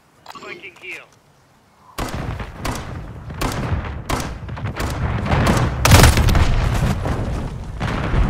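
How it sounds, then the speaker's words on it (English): Repeated gunshots in a video game as an enemy shoots the player's equipment, sharp close bursts over a dense rumbling battle bed after a quiet start with a faint voice. "he's shooting my equipment"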